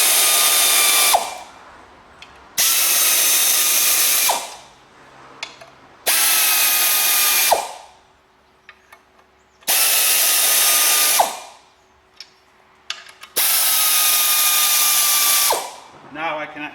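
A power tool winds bolts halfway into a Seat Ibiza engine in a garage, five loud, close whirring bursts of about two seconds each, with quiet pauses and faint clinks of handling between them.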